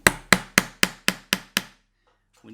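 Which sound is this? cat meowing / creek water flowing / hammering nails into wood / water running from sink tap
hammering nails into wood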